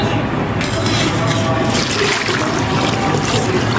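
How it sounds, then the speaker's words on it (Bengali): Water poured into a rice cooker holding rice and lentils for khichuri, a loud continuous close-up gush and splash that holds steady throughout, with no talking. "পানি দিয়ে দিলাম,"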